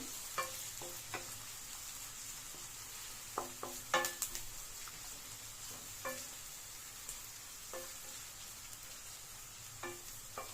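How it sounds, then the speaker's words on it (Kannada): Sliced onions for an egg curry frying in oil, a quiet steady sizzle broken by repeated light scrapes and taps of a spoon stirring in the pan, with no speech. "ಈರುಳ್ಳಿ ಸಾಫ್ಟ್ ಆಗೋವರೆಗೂ ಚೆನ್ನಾಗಿ ಫ್ರೈ ಮಾಡ್ಕೊಳ್ಳಿ"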